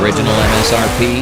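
A Dodge Charger with the Hemi V8 roars loudly at close range, with the tyres squealing under hard acceleration. A voice speaks over the engine.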